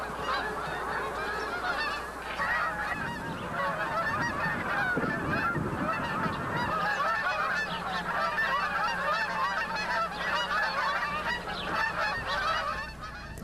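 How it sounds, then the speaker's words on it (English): A flock of geese passes overhead, honking continuously in overlapping calls over a low background hum, fairly close and steady throughout. "It's so exciting to hear them go overhead"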